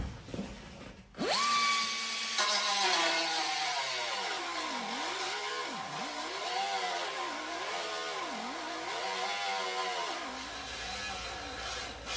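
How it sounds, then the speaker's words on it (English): A small grinder cutting into the metal body of a 1972 VW Super Beetle, spinning up with a rising whine and then holding a loud, wavering screech as the blade bites and eases in repeated dips. "I decided to cut it out with the small grinder"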